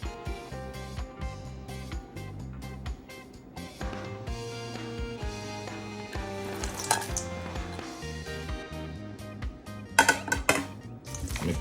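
Seasoned chicken pieces tossed and mixed in a bowl for a Jamaican brown stew, producing close clinks, clatters and wet squelches of a utensil against the dish over background music, with no talking.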